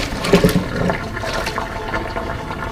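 Hot pasta and its steaming water pour into a colander in a loud rushing gush that splashes and drains continuously, close and unbroken throughout.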